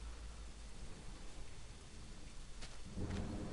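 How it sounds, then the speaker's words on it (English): Rain falls steadily in the video game Home, a soft, even hiss, and a low thunder rumble swells near the end. The sound is faint and there is no speech. "The rain gave me a terrible sense of foreboding and it chilled through my clothes."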